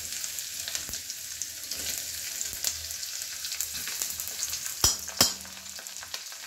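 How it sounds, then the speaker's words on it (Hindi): Ginger and garlic frying in a pan, a soft steady sizzle with faint hiss and a couple of sharp clanks from stirring near the end; no talk. "डाल दीजिए लहसुन, पक जाए थोड़ा उसको।"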